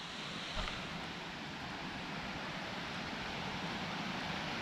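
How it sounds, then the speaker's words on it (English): A small woodland waterfall nearby gives off a steady, even rush of falling water, a constant broadband hiss that stays level throughout with no voices over it. "looks like we could hear a little waterfall off to the left"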